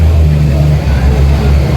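A pulling tractor at a tractor and truck pull roars at full throttle, a loud, sustained, close engine drone with heavy low rumble and broadband noise that hardly varies.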